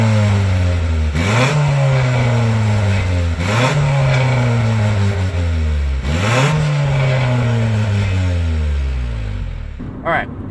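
A 1991 Honda Civic Si EF hatchback engine revving up through the gears from inside the car, rising pitch sweeps broken by shift dips about every two and a half seconds, loud and continuous, easing off at the end.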